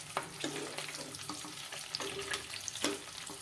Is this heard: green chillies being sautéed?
yes